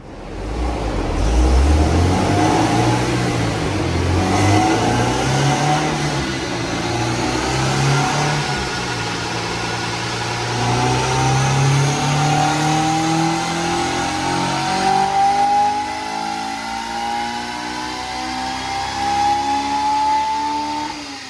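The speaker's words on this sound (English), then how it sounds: "install this is our new prototype Type S exhaust" Honda S2000 with a prototype Type S exhaust, revved on a dyno in a long, loud, continuous run, the engine note sweeping up and down repeatedly before climbing steadily toward the end, no talking.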